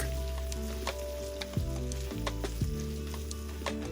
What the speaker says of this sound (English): Fry it in the oil for 15 seconds before mixing with the pork.